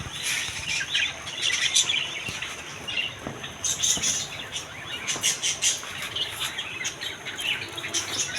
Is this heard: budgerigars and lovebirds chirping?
yes